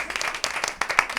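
Audience applause at a live recording of the Carne Cruda podcast, a short burst of close, dense clapping with a few louder individual claps standing out.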